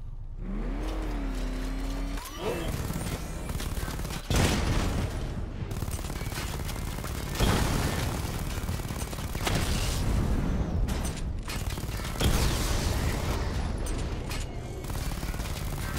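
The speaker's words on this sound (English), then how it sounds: "Destroy targets to charge up weapon energy and activate missile barrage." Vehicle weapons fire at targets in Batman: Arkham Knight, with loud bursts of gunfire and blasts following an engine rev, densely packed and continuous over a steady mechanical drone.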